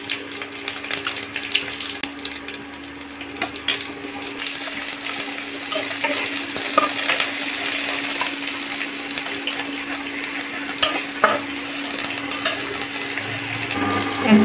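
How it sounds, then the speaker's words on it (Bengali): Chopped onion and garlic fry in a pan, giving a continuous loud hiss and crackle with no breaks, close by and with no voices. "এরপরে পেঁয়াজটা দিয়ে দিচ্ছি, রসুন কুচি দিয়ে দিচ্ছি"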